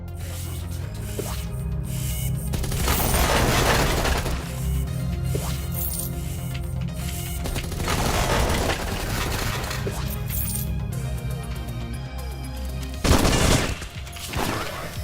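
Gunfire rattles in a Doom total conversion game, in long sustained bursts of rapid shots. It swells and eases over about fifteen seconds, with a sharper spike near the end.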